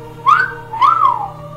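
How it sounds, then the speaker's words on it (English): Two-note hottie whistle from a soundboard, a loud, close wolf-whistle with a rising first note and a swooping, falling second note, heard alone over a faint steady hum. "Hottie whistle?"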